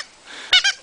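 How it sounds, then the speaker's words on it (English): A dog bites a squeaky toy, producing two quick, close high-pitched squeaks in a row after a brief quiet moment. "Make it squeak."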